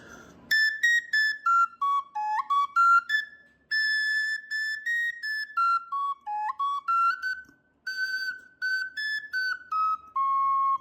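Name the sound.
Sicilian friscaletto flute played slowly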